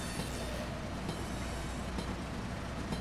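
A freight train in Train Simulator Pro USA rolls along with a steady rumbling drone of wheels on rail, faint and continuous with occasional soft clicks, no voices.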